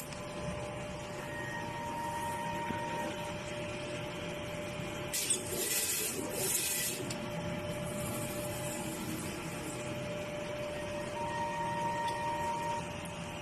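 An inkjet printer runs a nozzle check, a steady mechanical whir and drone throughout with a louder whooshing burst of carriage movement in the middle, close and unbroken, no talking.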